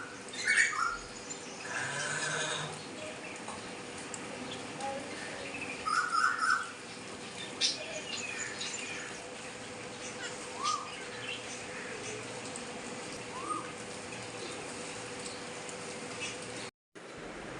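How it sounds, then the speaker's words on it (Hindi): Outdoor birdsong with a few clear koel calls rising over steady ambient hiss, distant and intermittent, with no one talking. "ये कोयल की आवाज़ है"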